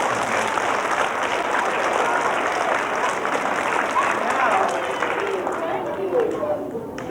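Continuous applause from a school audience fills the whole stretch, a dense steady wash of clapping with crowd noise mixed in and no pauses.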